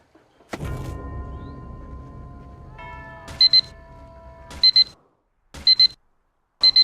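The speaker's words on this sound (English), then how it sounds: "You heard the alarm go off" An alarm goes off in short, sharp paired bursts, beeping in a regular repeating pattern after a brief mechanical clunk and hum, close and loud with quiet gaps between the beeps.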